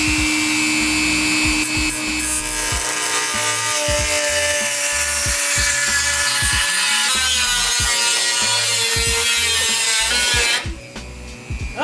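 A power tool cuts metal during a Bugeye car rebuild, grinding steadily up close with a strained whine and repeated rhythmic clanks throughout, then cutting off near the end.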